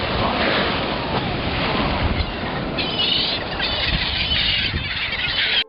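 Ocean waves crash and wash near a surfer after a whale leaps and splashes nearby, a loud, continuous roar of surf with rushing water throughout.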